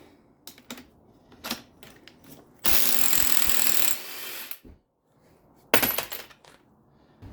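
Impact wrench rattling off a 13/16 strut top bolt on a 2004 Oldsmobile Alero, one loud sustained burst of about a second, then a shorter burst after a pause, with faint tool clinks between.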